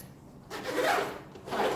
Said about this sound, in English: you find tucked away in a sleeve down the bottom is this, which joins on to a zip down the bottom